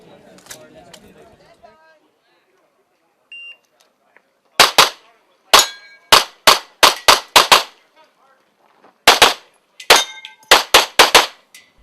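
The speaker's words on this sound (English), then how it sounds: "Great shooting there by Angus Hobdell, shooting for the production team of CZ USA" Pistol shots ring out on an IPSC World Shoot match stage, sharp loud cracks fired in rapid bursts of several shots, with a start beep beforehand and brief voices at the outset.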